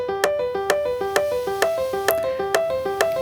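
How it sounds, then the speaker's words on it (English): Synthesized music production example in triplet rhythm: bright plucky tonal notes repeat in a quick, even three-note pattern with sharp accented hits, playing alone at moderate volume. "Basically, triplets sounds like this,"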